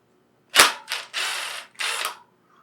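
A 17 mm socket wrench, with a cone nut wrench held behind, works a tight motorized bicycle axle nut: a sharp crack, then several loud close ratcheting bursts that stop abruptly, with no talking.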